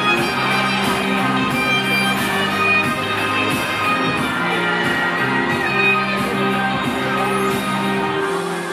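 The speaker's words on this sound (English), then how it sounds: "And the crowd goes wild." A crowd at a national costume competition cheers and shouts steadily, with loud sustained whoops and yells over a droning music bed.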